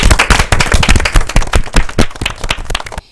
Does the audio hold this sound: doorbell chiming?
no